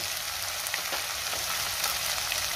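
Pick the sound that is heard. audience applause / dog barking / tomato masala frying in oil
tomato masala frying in oil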